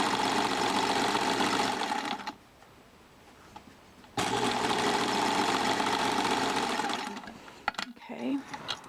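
A sewing machine zigzag stitching along a stretched fabric edge runs in a loud steady mechanical whir, stops for about two seconds, then runs again before slowing, with a few handling clicks at the end.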